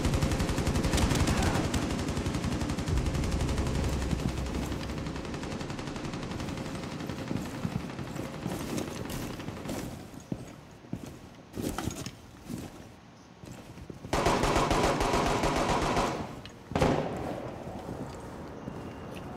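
Machine gun fire in Rainbow Six Siege, rapid sustained bursts of automatic shooting up close that thin into scattered shots midway, then a fresh heavy burst and a few later shots.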